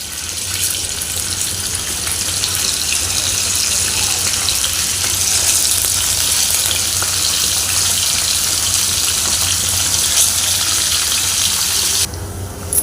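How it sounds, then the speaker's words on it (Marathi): Paneer frying in oil in a kadhai gives a continuous loud, hissing sizzle that holds steady for several seconds, close up, before briefly dipping near the end, with no talk. "आता आपण याच्यामध्ये पनीर चांगलं तळून घेऊया फ्राय करून घेऊया तेलामध्ये"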